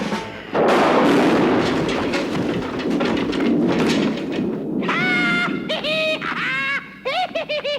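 Gunfire aimed at Sleestak creatures, a rapid burst of loud close shots in the first half, followed by chirping, squawking creature-like calls with bursts of noise between them, and no talking.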